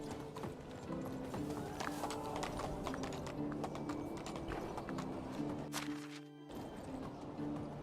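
Horse hooves clip-clop in a steady walking rhythm in the medieval survival game Medieval Dynasty, set in winter, with a short gap near the end before the hoofbeats resume.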